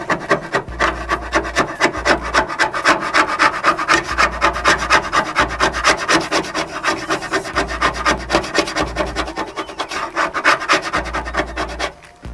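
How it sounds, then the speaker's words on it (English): A plastic razor scraper scrapes residue off the cab of a Mazda B2200 / Ford Courier mini truck, making a steady, loud, close rasping rub in repeated strokes that runs almost continuously without talk. "So I'm going to start with the razor scraper"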